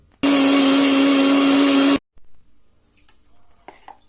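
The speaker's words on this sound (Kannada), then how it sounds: "ತೆಂಗಿನಕಾಯಿ ಮಿಕ್ಸಿ ಹಾಕಿ ಸ್ವಲ್ಪ ನೀರು ಹಾಕಿ" A kitchen mixer grinder grinds coconut with a little water for a traditional sweet, a loud, steady whir of just under two seconds that cuts off abruptly, followed by faint handling sounds.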